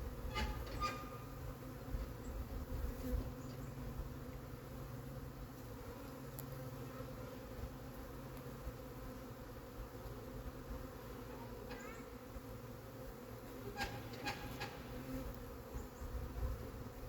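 Bees from a wild swarm buzz steadily around a hive being moved into a new home, a dense continuous drone with individual bees passing close now and then.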